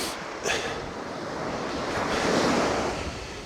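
Steady roar of North Sea waves breaking and washing along a sandy beach, close and continuous with a swell building near the end, overlaid by gusty wind buffeting the microphone.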